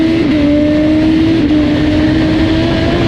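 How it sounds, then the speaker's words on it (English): A 2013 Harley-Davidson Road King engine held at high, steady revs on a dyno during a tune, loud and close with a sustained droning tone and no speech. "today we have a 2013 Harley Davidson Road King in for a full ECU flash and dyno tune"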